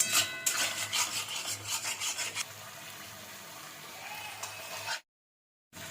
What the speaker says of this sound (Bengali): মশলাটা ভালো করে কষবো যাতে মশলাটা একদম টেনে যায়।